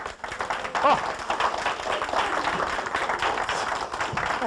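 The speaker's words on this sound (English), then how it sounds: "Get a round of applause here on Sunday morning." An audience on a Sunday morning gives a round of applause, a steady spread of clapping at moderate volume that carries on for several seconds, with some voices mixed in underneath.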